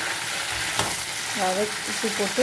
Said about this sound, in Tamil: கத்திரிக்காயை அது போட்டாச்சுங்க. போட்டு நல்லா வதக்கிடுவோம்.